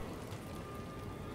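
Soft, steady rain falls outside, a faint continuous patter in the background with no voices.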